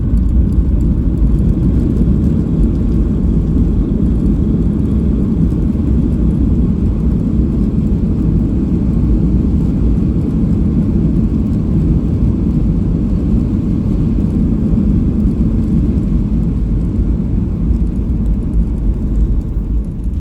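Inside a Batik Air airliner just after landing at Kuala Lumpur, a loud, constant low engine rumble and cabin roar continue for about twenty seconds without any voices.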